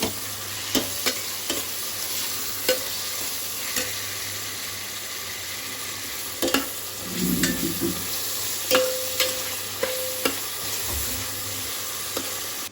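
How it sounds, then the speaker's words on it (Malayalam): Chopped garlic sizzles in hot oil in a home kitchen while being stirred, a steady frying hiss broken by sharp clinks and scrapes of a utensil against the pan. "ചൂടായ എണ്ണയിലേക്ക് നമുക്കിനി കുറച്ച് നമ്മൾ അരിഞ്ഞ് വെച്ചിരിക്കുന്ന വെല്ലുള്ളി ഇട്ട് കൊടുക്കാം. നന്നായിട്ടൊന്ന് ഇളക്കി കൊടുക്കണം."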